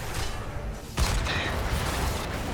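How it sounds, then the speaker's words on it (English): A spaceship's main cannons fire in the video game Heroes of the Storm, a sudden heavy booming blast that bursts in partway through over a busy background of game sound. "Main cannons, fire!"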